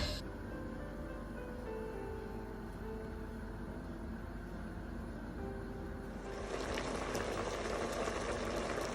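Pumpkin boiling in a little water in a pot, a continuous low bubbling simmer that grows brighter and louder with more vigorous bubbling toward the end, no voices.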